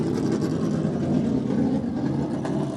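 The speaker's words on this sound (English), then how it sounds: "You can't hear when these cars come by" SCCA race cars running on a track, a loud, continuous engine roar that holds steady throughout with no gaps and no voices.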